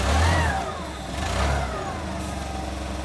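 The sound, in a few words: forklift engine starting and idling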